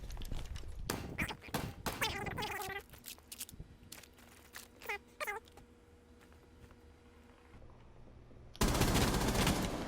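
A machine gun in Rainbow Six Siege fires several rapid bursts, with gaps of quieter game sounds and some high, wavering tones between them, then a loud burst of noise near the end.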